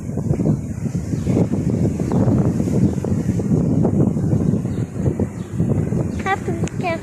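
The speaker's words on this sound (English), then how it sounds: "Super windy." Strong, gusty wind blows outdoors during heavy rain in the UAE, roaring and buffeting the microphone with a dense, continuous low rumble, and a brief chirping call is heard near the end.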